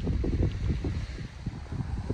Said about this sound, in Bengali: হালকা বাতাস হয়তো বাতাসের শব্দ শুনতে পাচ্ছেন আপনারা এই ভিডিওর ভিতরে